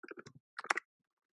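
A few quick keystrokes on a computer keyboard, close and fairly quiet, come in two short bursts of clicks separated by a brief pause.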